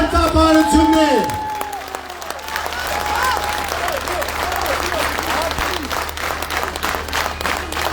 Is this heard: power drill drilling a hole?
no